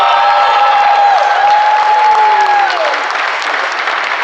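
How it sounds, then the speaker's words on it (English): Loud, sustained applause from an election-night crowd in Shelby County as Mayor A.C. Wharton takes the podium, a dense wash of clapping with a whoop or shout rising briefly above it before it eases slightly toward the end. "Let's give a rousing round of applause as he takes the podium"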